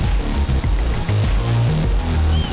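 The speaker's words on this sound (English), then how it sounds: "Lost in the sound of white water" White water rapids roaring during a kayak run, a loud, continuous churning rush of turbulent water close by, with low thumping surges beneath the broadband roar.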